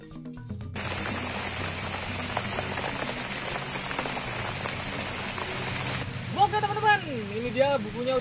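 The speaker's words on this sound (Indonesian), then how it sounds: "Ini hujan juga" Steady rain falls outdoors, a continuous dense hiss throughout, while someone working on a fish trap made from an old umbrella speaks near the end.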